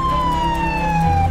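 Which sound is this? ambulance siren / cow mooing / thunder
ambulance siren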